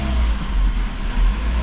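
A Dodge Neon with a check engine light on runs loud and close, a dense, steady engine drone with slight swells as it is shifted into first gear.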